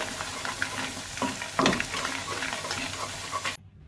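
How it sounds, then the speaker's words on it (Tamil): Garlic for a Tamil garlic chutney frying in a pan while being stirred, a steady sizzle with scraping spoon strokes, a louder stir in the middle, then an abrupt stop near the end; no talking. "ஒரு நிமிஷம் அப்படியே கிளறி விட்டுக்கோங்க"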